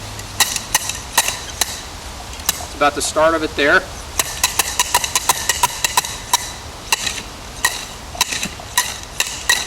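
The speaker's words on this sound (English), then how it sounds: "we're going to take this probe and try to hammer down into the soil" A metal probe is hammered into the soil of a septic system area with a series of sharp, rhythmic strikes. A person speaks briefly partway through.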